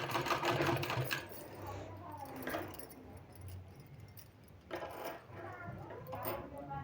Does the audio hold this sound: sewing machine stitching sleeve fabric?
yes